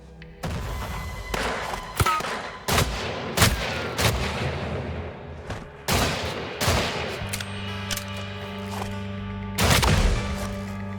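Gunfire and heavy explosive blasts from the video game Weird West as a TNT barrel is shot, a series of sharp loud bangs and booming thuds spread irregularly across the clip over a steady game background.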